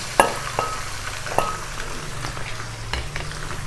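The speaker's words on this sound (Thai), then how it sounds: "หลังจากที่น้ำมันเราร้อนแล้วเราก็เท กะเอ่อมันหมูของเราลงไปทอดเลยนะคะเพื่อน" Pieces of pork fat frying in hot oil in a wok, a loud, dense sizzle with a few sharp pops and stirring knocks, steady throughout with no talk.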